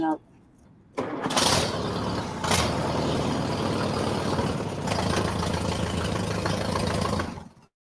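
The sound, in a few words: Allis-Chalmers WD tractor engine running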